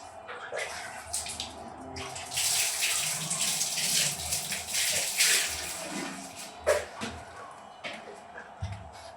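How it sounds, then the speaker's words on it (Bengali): Tap water running steadily while hands are washed during a gypsum vase-making job, a broad hissing gush with small splashes and clatters, fairly close, with brief faint voices in the background. "আমি হাতটা ধুয়ে আসতেছি"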